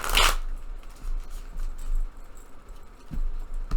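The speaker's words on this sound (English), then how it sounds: "I'm hearing 4 shuffles this time." A deck of tarot cards is shuffled by hand, opening with a sharp riffling burst followed by softer, irregular card rustles and taps, close and clear with no voices.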